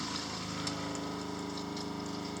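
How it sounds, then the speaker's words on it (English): A quiet, steady hum of water flowing through a recirculating hot water line, with faint gurgling and small bubbling pops of air bubbles working out, scattered throughout. "the sound you hear is just some air bubbles working its way out"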